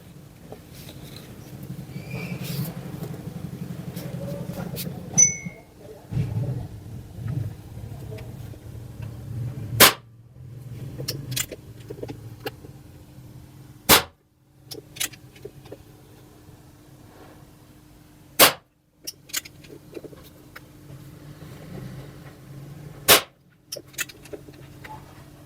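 Nova Vista Cobra PCP air pistol firing JSB 18-grain pellets, several sharp isolated cracks spaced seconds apart over a low steady hum, close and loud, no talking.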